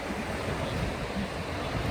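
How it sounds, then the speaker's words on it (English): Ocean waves crash against rocks, a continuous dense wash of surf with wind noise, steady and fairly loud throughout. "listen to the rocks when the waves crash"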